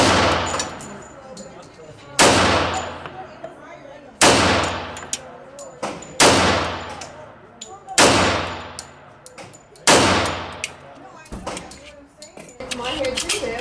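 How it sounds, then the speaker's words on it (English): A Remington R1 1911 pistol fires six loud, sharp shots spaced about two seconds apart, each followed by a ringing decay outdoors. "you guys probably just want to see me shoot a gun"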